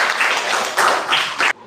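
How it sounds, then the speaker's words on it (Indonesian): Hands clap together in applause, a brisk burst of clapping in several swelling waves before cutting off abruptly, close and fairly loud. "Tepuk tangan untuk kita semua."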